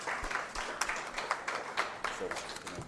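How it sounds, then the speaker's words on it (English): An audience at a conference gives the speakers a round of applause, heard as continuous crowd clapping at moderate distance, with a voice talking over it. "Let us give them a round of applause"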